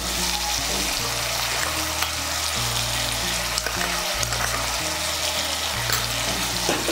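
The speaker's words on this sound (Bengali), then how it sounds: "মিশিয়ে নিয়ে মশলাটাকে কষিয়ে নেব।" A spice mix of turmeric, red chili powder and salt fries in a pan for a vegetarian dish, giving a loud, continuous sizzle with a faint steady tonal hum beneath it.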